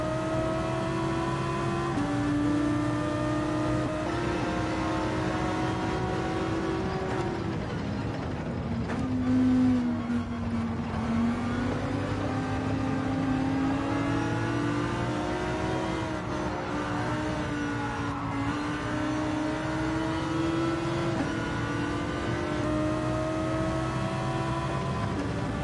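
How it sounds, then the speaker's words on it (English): Lamborghini Huracan engine in Gran Turismo 7 holding a steady, loud drone with rising and dipping pitch as it accelerates through gears, a continuous racing-car whine with no talking. "This Huracan is just so OP on acceleration"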